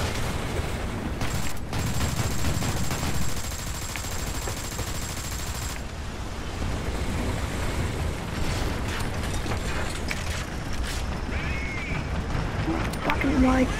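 Aircraft guns firing in the War Thunder combat game while shooting down planes, continuous dense machine-gun bursts and mechanical clatter over a roaring engine, steady and loud throughout with a voice talking over it.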